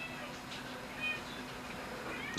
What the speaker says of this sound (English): you hear that cat? She's doing my head in.